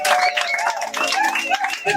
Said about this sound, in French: On applaudit le Seigneur.